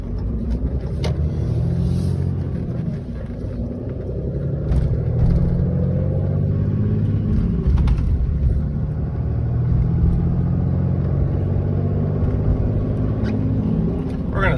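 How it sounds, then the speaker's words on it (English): Semi trucks rumble past on a highway, heard from inside a 2018 Ram 3500 Laramie pickup with a G56 manual, their low roar swelling near and fading under a steady engine drone, with occasional talk. "We got some semi trucks coming here"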